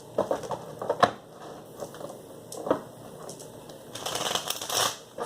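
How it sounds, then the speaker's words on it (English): Tarot cards riffle and tap in quick soft bursts, a few separate shuffles with pauses between and a longer flutter near the end. "We have 3 more shuffles here for Virgo"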